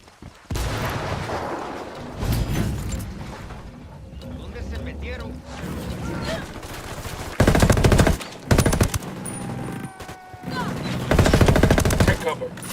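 Bursts of automatic gunfire crackle through a Ghost Recon Wildlands firefight in Bolivia, rapid volleys coming in loud clusters between quieter stretches of ambient game sound and indistinct radio chatter.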